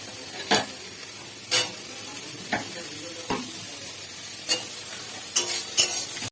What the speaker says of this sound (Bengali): ঘুগনির মশলাটা ভালো করে একদম নাড়াচাড়া করে নিচ্ছি